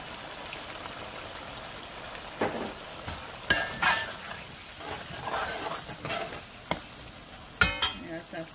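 A spoon stirs tomato sauce through a pan of sausage and macaroni, soft sizzling under scattered scraping and clinking strokes, with a few sharper knocks against the pan.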